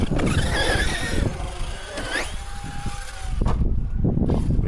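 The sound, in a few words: Hobao MTX 8S RC car engine accelerating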